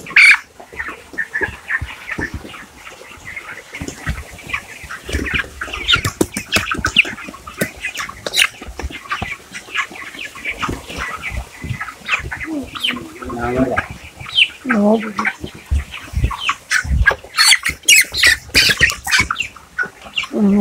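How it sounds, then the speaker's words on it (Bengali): A broiler chicken on a farm squawks and clucks in loud, frantic bursts while being caught, with wing flaps and handling noise close by and brief human sounds mixed in. "একটা মুরগি ধরলাম,"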